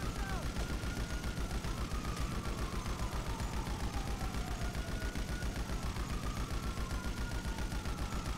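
Rapid automatic gunfire in GTA Online hammers in a fast, even rhythm throughout, loud and sustained, with sweeping tones rising and falling above the shots.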